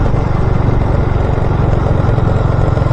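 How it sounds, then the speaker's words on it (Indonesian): A loud motorcycle engine roars steadily and close by, a dense, throbbing drone that stays strong and even throughout with no speech over it. "Kenceng banget motor"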